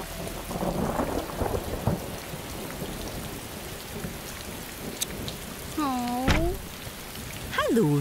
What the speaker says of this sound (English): The rain does make a good noise